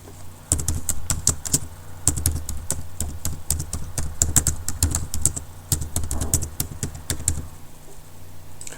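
Keys clatter on a computer keyboard while a login is entered for hospital information software, with quick close bursts of taps separated by short pauses.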